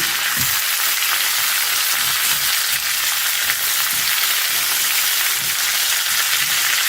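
Guava chutney ingredients sauté in a hot pan with a steady, close sizzle, broken by a few soft stirring scrapes and no talking.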